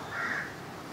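A crow caws from a garden, one drawn-out call at moderate distance against faint background ambience, with no one speaking.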